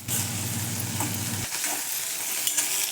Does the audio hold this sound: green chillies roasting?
yes